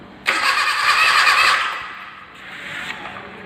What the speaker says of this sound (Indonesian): kita starter engine-nya